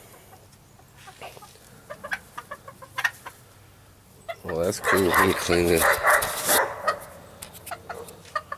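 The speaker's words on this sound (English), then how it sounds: "She wants to kill the chickens." Chickens cluck inside a backyard pen built from a salvaged cage and box. Scattered calls give way to a loud, busy burst of squawking midway, while people talk nearby.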